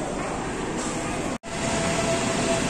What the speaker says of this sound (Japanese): チェンマイ発のバンコク着が今到着したみたいですね